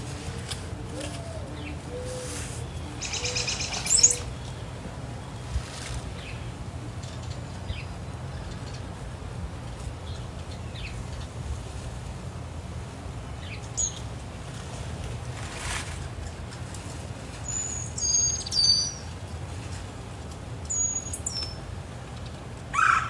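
Backyard birds chirp outdoors in short, scattered calls, some faint and distant, others brief and closer, over a low steady outdoor rumble with long quiet gaps between them.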